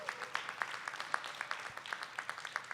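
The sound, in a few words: audience applause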